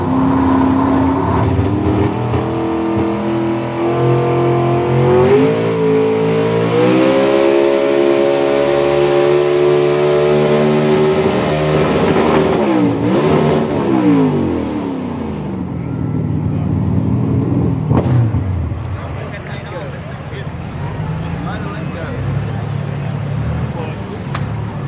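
A truck at a farm show pulling hard in low gear, with a smoking clutch. Its engine revs loudly and steadily, rising in pitch, then eases off while voices carry faintly in the background.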